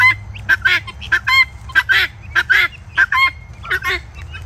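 Guinea fowl call over and over in a rapid series of harsh, two-syllable honking cries, loud and close, over a low background rumble, with no talk.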